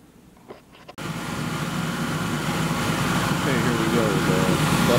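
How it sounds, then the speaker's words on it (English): Tractor engine starting up after a few quiet knocks, then running at a steady loud drone throughout, with a voice talking faintly over it near the end. "Tractor is on."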